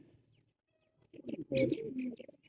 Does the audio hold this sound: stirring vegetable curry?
no